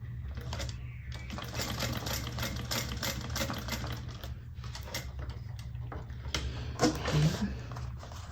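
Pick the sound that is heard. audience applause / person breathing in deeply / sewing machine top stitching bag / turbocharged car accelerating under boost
sewing machine top stitching bag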